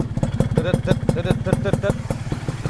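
A restored Honda motorcycle with original carburettor, CDI and AHM exhaust idles close by, its engine throbbing in a quick, even rhythm of crisp exhaust pulses that stays steady throughout.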